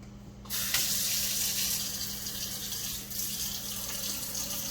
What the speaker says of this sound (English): just rinse these off gently